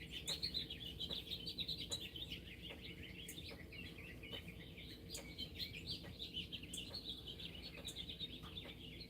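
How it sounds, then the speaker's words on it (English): Many birds chirp and sing at dawn in a steady outdoor chorus of overlapping high calls, with sharp nearby chirps over a continuous low background hum and no talking. "Roger Blair shows up and all the birds start singing."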